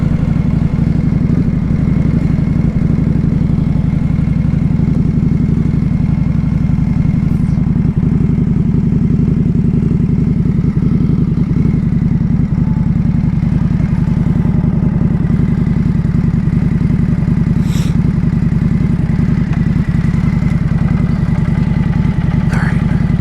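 A 2025 Indian Scout motorcycle fitted with a Vance & Hines slip-on exhaust rides along, producing a loud, steady low engine drone with a constant rumbling exhaust note and wind, close and unbroken for over twenty seconds.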